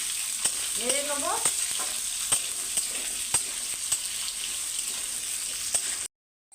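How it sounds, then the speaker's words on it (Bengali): Papaya, potato and radish fry in an oil-filled pan for sukto while a spatula stirs them: a steady, bright sizzle with regular scraping knocks roughly every half to one second, no voices, cutting off abruptly near the end. "পেঁপে, আলু, মূলো দিয়ে এইটাকে একটু নেড়ে নেবো।"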